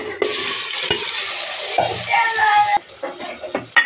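Beef tipped into a pot of hot oil on the stove for a beef and bottle gourd curry, bursting into a loud, close, hissing sizzle that lasts a few seconds and then drops away, leaving scattered clinks.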